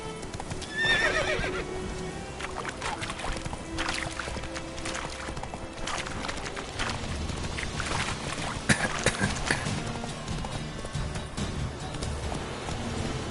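Hooves of Roach, Geralt's horse in The Witcher 3 on PS5, clip-clop in a steady galloping rhythm with occasional neighs and whinnies, fairly close, alongside game ambience and no talk.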